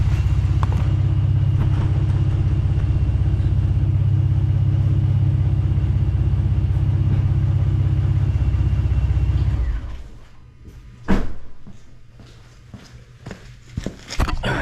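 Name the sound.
Gen 2 Ford Raptor engine running then shut off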